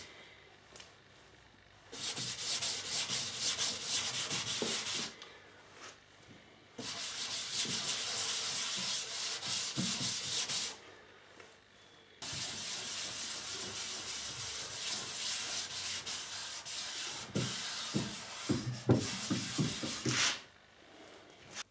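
Old t-shirt rubbing True Oil onto a guitar body, heard as long, loud, hissing wiping passes separated by short pauses, close and alone with no talk.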